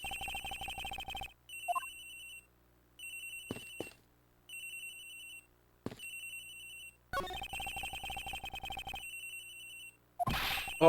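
A cell phone ringtone from Ace Attorney Investigations: Miles Edgeworth, belonging to Agent Hicks and ringing somewhere aboard a plane, plays a chiming, lullaby-like melody in repeated bursts with short gaps and brief interface blips.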